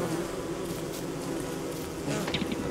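Bees from Don't Starve buzz continuously and loudly throughout, a dense steady insect drone with a brief swell of sharper buzzing near the end.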